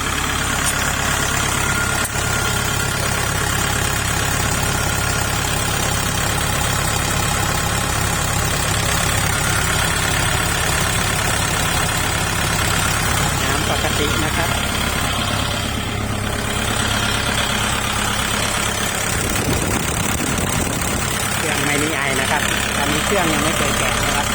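A used farm tractor for sale idles with a steady, continuous engine rumble, with someone talking over it throughout.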